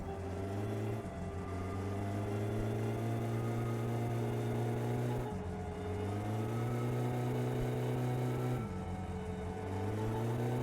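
A car engine in the driving game My Summer Car runs rough and labored, holding a loud steady drone that dips and surges about every four seconds as it strains, with no talking over it.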